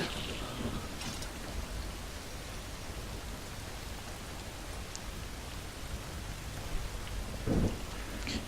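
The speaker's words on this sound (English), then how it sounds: "It is chucking it down with rain" Steady, heavy rain pours down in a dense hiss in the video game Skyrim, with a faint rumble of thunder underneath and no voices.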